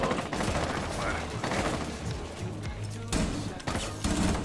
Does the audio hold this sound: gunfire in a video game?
yes